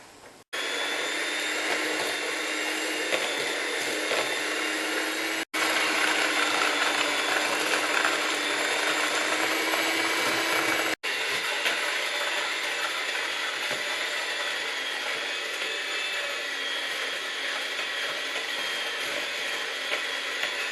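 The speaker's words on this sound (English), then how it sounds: "And then I'm going to pop my whisk in and start on maybe 1 or 2." An electric hand whisk mixes lemon cupcake batter of softened butter and sugar on low speed, giving a steady continuous motor whir with two brief cut-offs, loud and close, with no talking.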